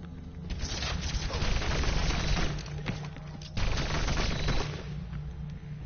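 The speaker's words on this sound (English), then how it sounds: "Because you have to shoot him and shoot him and shoot him." Sustained bursts of rapid gunfire in the video game Overwatch, dense automatic shooting with booming impacts running almost continuously at close range and no talk over it.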